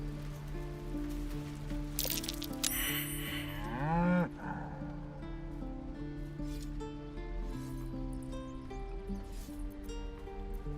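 A cow in Baldur's Gate 3 gives one long, loud, wavering moo over steady game music and a light rain-like patter.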